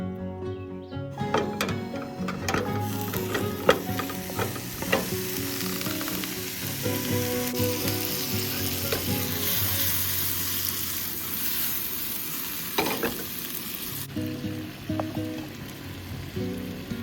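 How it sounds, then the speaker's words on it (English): A short stir fry sizzles in a pan at a campsite in O'Leno State Park, Florida: a steady, close hiss of frying broken by clinks and scrapes of stirring, with a brief pause near the end before sizzling resumes. "I'm gonna make just a short stir fry."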